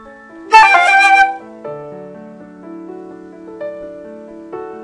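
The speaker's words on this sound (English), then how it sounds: "then there are turns, and it is just one note above the note written, one note below, and then one note written" A short melodic phrase on a keyboard-like instrument featuring a turn ornament, stepping to the note above, the note below and back to the written note, followed by calm held notes, heard alone.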